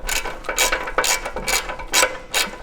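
A wrench ratchets a 10mm nut on the headlight leveler arm of a BMW F30/F80/F82 during an airbag suspension install, giving close, bursty clicking spurts repeated about every half second, with no talking.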